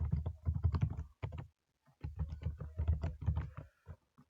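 Guest data being typed on a computer keyboard, close and clear, in quick bursts of key clicks with short pauses between them.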